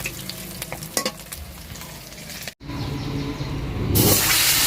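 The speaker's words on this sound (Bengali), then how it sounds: "মাছগুলো এখন একবারে ভেজে নেবো" Tangra and tilapia fish frying in hot oil, a continuous crackling sizzle with stirring scrapes, briefly cut and then swelling louder and hissier near the end.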